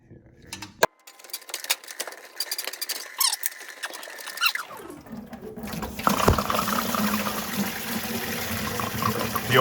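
Water drains and splashes out of a big-block engine being torn down, starting after a few seconds of clanking and scraping, then a steady, fairly loud gushing pour to the end; a few voices are heard early on.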